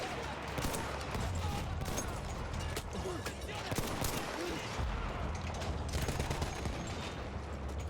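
Marksman rifle gunfire in the Battlefield 1 video game, with shots mixed into dense, continuous battlefield noise and a constant wash of background combat throughout.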